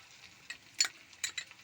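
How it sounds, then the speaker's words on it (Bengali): Spiced water of red chilli powder and turmeric goes into a hot kadai for papaya kofta curry, giving a few short, soft sizzling bursts and stirring scrapes amid quiet pauses. "নিয়ে জলটা এবার কড়াইতে দিয়ে দেব"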